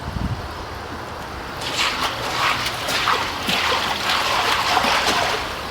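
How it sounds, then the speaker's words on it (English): Water from a vortex tank drains out through an opened slide valve at the bottom, a steady broadband splashing and trickling rush that starts after a quiet second and continues evenly, fairly close. "open the slide valve at the bottom, and that will start the water gently dropping in this vortex tank"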